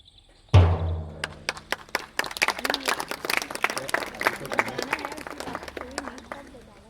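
An audience clapping during a stage play adaptation of a Hindi story, starting with a sharp thump and then uneven, scattered claps in a room, with a voice speaking under the sound.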